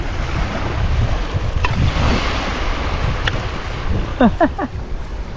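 Sea waves wash in with steady surf and wind gusting across the microphone; a voice briefly speaks over the water near the end.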